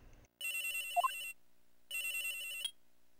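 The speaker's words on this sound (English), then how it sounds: "At around 10:30, I received a call on my cell phone." Cell phone ringing in the Phoenix Wright video game, two loud electronic ringtone bursts with bright repeating tones, separated by a short silence.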